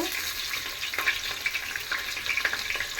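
Onions fry in a pan in the Muslim home style, browning for a festive dish, with a steady soft sizzle and occasional scraping stirs, close and moderately quiet, no voices.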